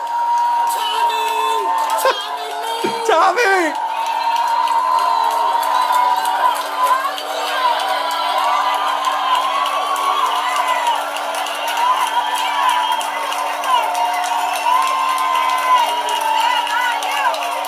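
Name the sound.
passionate Husky fan cheering after game against Northwestern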